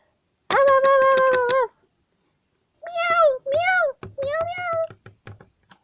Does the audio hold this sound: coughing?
no